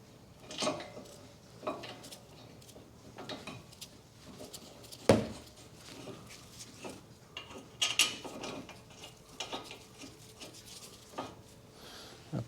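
Scattered metallic clicks and clanks of a ratchet fitting the 16mm brake caliper carrier bolts on a 2013 Mini Cooper D 1.6 diesel, faint and intermittent with a sharper knock midway.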